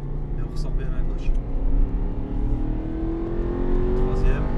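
An Aston Martin engine pulls hard on a race track, a strong rising whine building steadily under continuous talking from the driver.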